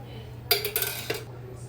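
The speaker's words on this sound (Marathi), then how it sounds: "कढई ठेवलेली आहे गॅसवरती कढई गरम झाली की एक पळी तेल घालते" A few sharp metal clinks and scrapes as a ladle meets a hot kadhai on a gas stove while oil goes in for tempering, clustered in a short burst over a low steady hum.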